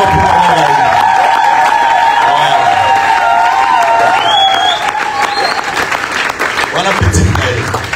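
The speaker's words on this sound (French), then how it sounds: "Est-ce qu'on peut applaudir pour Maman Raï?" Church congregation applauding during a French-language worship and thanksgiving service, a steady dense wash of clapping and cheering that stays loud throughout, with music and voices mixed in underneath.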